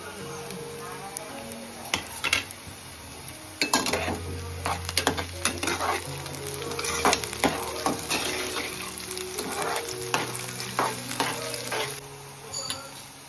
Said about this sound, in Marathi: आता आपण लसूण आणि मिरची टाकून घेऊ.